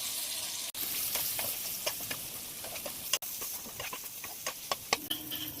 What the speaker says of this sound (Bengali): পোস্ত খুব ভালোভাবে ভাজা হয়ে গেছে